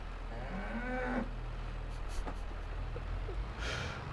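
A custom horn on a Farming Simulator 22 vehicle blares a cow-like moo early on, a bending low call over a steady engine rumble, followed by softer rustles and a faint later burst.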